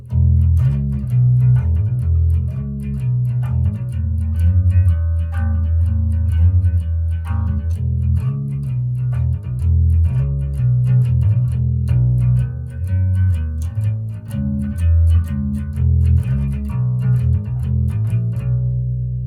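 A bass guitar plays a steady, low blues riff with repeating bluesy runs, loud and continuous with no talking.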